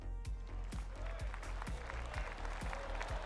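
A crowd in the golf game PGA Tour 2K25 gives a steady patter of applause and clapping, close and moderately loud, with faint talk underneath.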